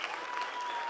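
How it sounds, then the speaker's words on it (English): Applause from an audience at an evening awards event in Aughnamullen, a brief, dense wash of clapping heard at moderate distance without voices. "Give that a round of applause."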